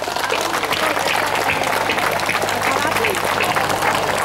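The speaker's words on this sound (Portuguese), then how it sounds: "Uma salva de palmas para todos." A crowd gives a round of applause at an outdoor pilgrim festival in Portugal, continuous dense clapping at full volume, with a few voices mixed in under it.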